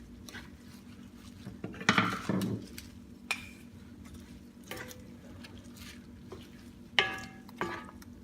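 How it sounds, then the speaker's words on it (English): A spoon stirs a shrimp fettuccine Alfredo sauce with parsley in a pan: quiet scraping and sloshing strokes come in a few separate bursts, with a faint simmer between them. "Give it a stir again."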